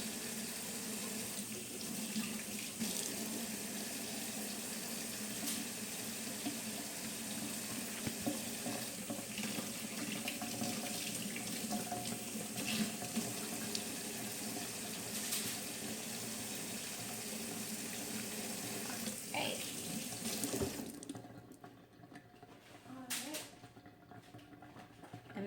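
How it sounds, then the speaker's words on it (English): Tap water runs steadily into a kitchen sink while a salmon fillet is rinsed under it, a continuous close splashing stream that cuts off near the end before a few brief handling sounds. "I like to wash my salmon off because sometimes there's like scales on it"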